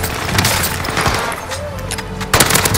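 Video game gunfire in a short firefight, several sharp loud shots bursting over rumbling game background, the strongest burst near the end.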